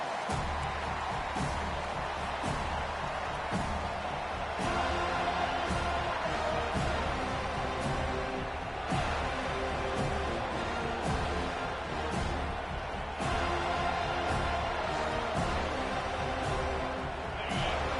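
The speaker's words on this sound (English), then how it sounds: "This crowd bringing the energy and noise early." Stadium crowd roaring continuously in the NCAA 25 football video game, a dense, loud, even wash of noise that swells and eases slightly in waves across the whole stretch, with no distinct voices standing out.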